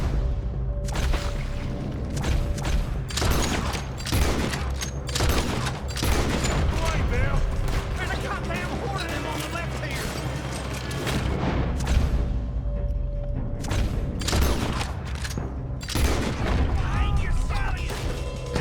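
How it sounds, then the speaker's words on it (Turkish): Repeated bursts of Red Dead Redemption 2 gunfire and booming shots crack loudly in irregular clusters, with a voice talking underneath at times. "her yerden atış geliyor"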